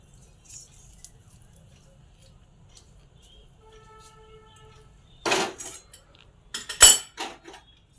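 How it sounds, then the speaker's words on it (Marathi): Bhadang chivda, a spiced puffed rice snack, is tossed in a pan: after near silence, two short bursts of rattling, clinking metal and crisp rustling come up close. "चिवडा चांगला मिक्स करून घ्यायचा"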